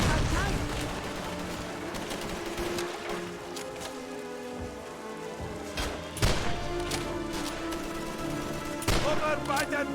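Call of Duty 3 battle with bursts of rapid gunfire and several heavy explosion booms, loud and close over a rumbling backdrop, with sharp blasts standing out near the middle and end.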